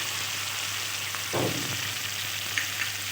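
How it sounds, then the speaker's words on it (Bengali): Cashew paste goes into a pan of sizzling fried spice masala in oil, with a continuous sizzle and a brief stirring scrape partway through, no voices. "মশলাটা কষানো হয়ে গেছে মশলা থেকে তেল ছেড়ে দিয়েছে এবার আমি এতে দিয়ে দিচ্ছি পেস্ট করে রাখা কাজু"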